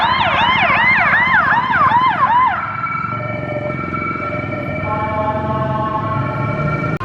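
An ambulance siren wails in Bangkok traffic, loud and close, first sweeping up and down rapidly, then changing to a steadier, sustained tone over the hum of vehicles.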